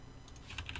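Keyboard shortcut pressed while working in Photoshop: a few soft, close key taps on a computer keyboard, quiet and brief.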